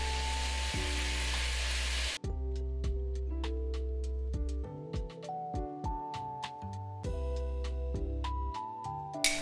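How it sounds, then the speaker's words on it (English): Lamb searing in a hot pan for birria, a steady close sizzle throughout with scattered sharp crackles and pops, no voices over it. "Get as much surface area as possible to promote browning. And we're just gonna let it sit there and sear."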